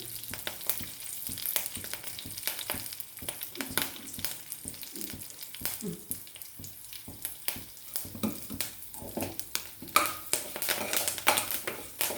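Curry leaves tempered in hot oil, a close crackling sizzle with irregular pops and spatters, and occasional stirring and clinks of a pan, with no one talking.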